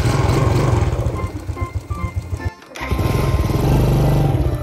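A Legend motorcycle is started with its electric starter, its engine running loudly and close by with a steady chugging rhythm, then cutting out briefly before revving back up.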